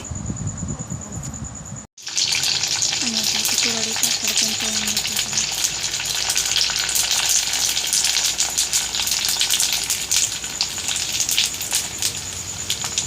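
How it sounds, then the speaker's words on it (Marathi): Bhaji fritters fry in hot oil with a loud, continuous close sizzle and crackle that runs steadily after a brief pause near the start, with no talking over it. "चला आता ही भजी आणि थोडे पण आपल्याला तळून घ्यायचं आहे"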